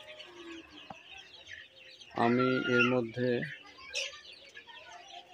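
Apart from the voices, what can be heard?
chickens clucking in a poultry farm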